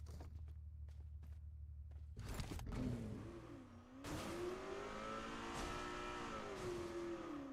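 A car in the PUBG Mobile video game drives and revs, its engine rising and falling in pitch continuously after a few short clicks, with a brief burst of tire noise.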